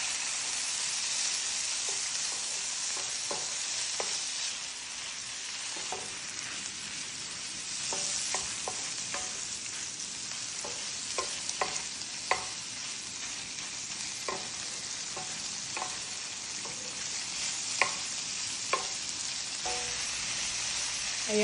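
Chicken stir-fried and mixed in a pan with ginger and garlic, a steady close sizzle broken by repeated scraping and tapping strokes of a spatula, with no one talking.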